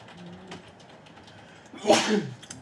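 A single sharp sneeze from a person indoors bursts out near the end, following a stretch of quiet room tone and faint murmur.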